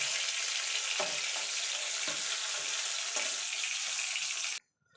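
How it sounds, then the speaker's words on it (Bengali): Brinjal pieces fry in hot oil with a steady, dense sizzle, broken by a few soft stirring knocks about once a second, before the sound cuts off abruptly near the end. "এই তেলে বেগুনগুলো ভেজে নেব"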